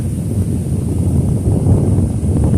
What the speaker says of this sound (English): the wind just blows across that